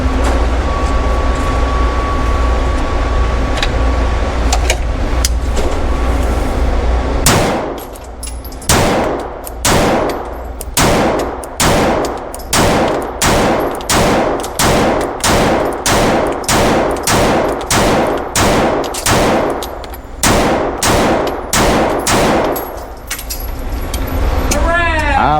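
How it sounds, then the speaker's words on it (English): Staccato XC pistol fired down range in a fast, steady string of about twenty-five sharp, loud shots after several seconds of ambient noise, each report ringing briefly before the next. "put some rounds down range"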